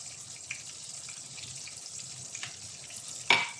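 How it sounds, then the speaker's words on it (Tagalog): Water pouring off a pot of cooked rice as it drains for fish biryani, a steady soft splashing trickle at moderate level that ends in a sharper clink near the finish. "I-drain na natin ang tubig."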